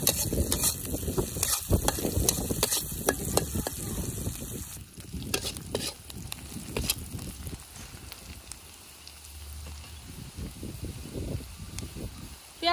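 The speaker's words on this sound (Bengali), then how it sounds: "পেঁয়াজ রসুন একটু ভালো করে ভেজে নয়।" Garlic, onion and green chilies fry in a pan for a mixed-vegetable lentil curry, a crackling sizzle with busy stirring and scraping strokes, louder at first and then settling into a quieter, steadier fry.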